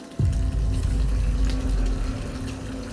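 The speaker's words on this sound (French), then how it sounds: "J'ai ouvert le robinet, j'ai attendu que la baignoire se remplisse." Tap water runs into a bathtub with a steady, full rush that starts abruptly and keeps going without a break, close and fairly loud, with a low continuous roar under the splashing.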